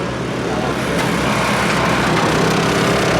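Connor Cummins' superbike engine idling and revving in the Isle of Man TT paddock just before the Superbike race, a loud continuous mechanical drone amid crowd noise and voices speaking.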